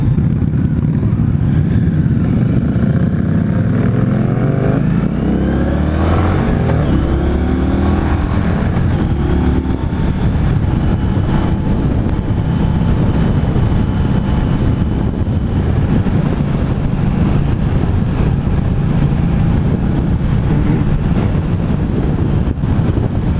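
A 2016 Indian Scout motorcycle cruises in sixth gear, its steady engine drone buried under heavy, constant wind rush throughout, with no talk.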